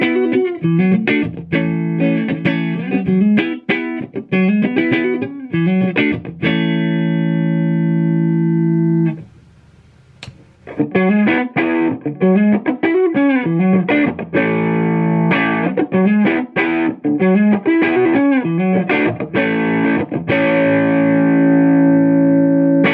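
Electric guitar played through a Mesa Boogie Mark VII 1x12 combo on its clean channel, loud and close, mixing strummed chords, single-note runs and a long sustained chord that rings out before a brief pause and more busy playing.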